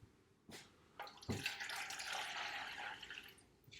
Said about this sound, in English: And then I want to put in about 300 millilitres of water.